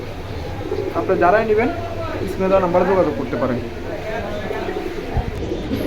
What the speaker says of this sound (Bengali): আরও কিছু কবুতর আছে দেখতে পাচ্ছেন খুব সুন্দর কবুতর এগুলা